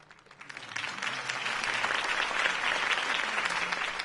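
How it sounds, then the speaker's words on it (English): Applause from a crowd at a campaign speech for a city election, swelling from a scattered start into steady, dense clapping that fills the whole stretch, with no talk over it. "could have heard that applause"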